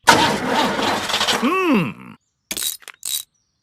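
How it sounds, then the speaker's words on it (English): A cartoon car engine being started by a breakdown mechanic gives a rough grinding, groaning crank with a rising and falling whine, then cuts out into silence before a couple of short sputtering bursts. "Try the engine."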